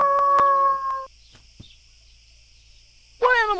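A wolf howls in a preschool animal game: a sustained tonal howl with harmonics for about a second, then near-quiet with faint clicks, followed by a rising cry at the end.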